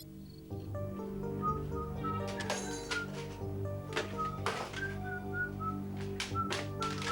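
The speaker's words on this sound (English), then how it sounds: "I'm just whistling while I work." A person whistles a tune while working indoors, bright melodic phrases rising and falling over a steady background hum with occasional soft clinks.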